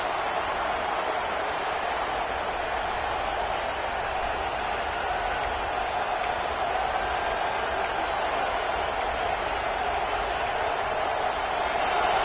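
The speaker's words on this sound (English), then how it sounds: "this big crowd doing everything possible to inspire this defense down here near the goal line" Large stadium crowd at an Ohio State vs Penn State college football game near the goal line, a dense, steady roar of cheering that holds throughout without breaks.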